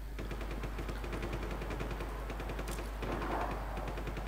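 Faint, rapid automatic gunfire in Just Cause 3 as a rebel is shot at, a steady rattling stream of shots heard at a distance over a constant low hum.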